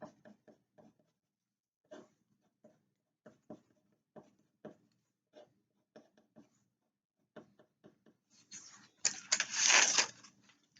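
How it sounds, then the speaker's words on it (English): Colored pencil scratching across paper in short, separate strokes with pauses between them, close and quiet, ending in a burst of faster, denser scribbling to add black feather shading on a hawk sculpture. "And I just use colored pencil for that."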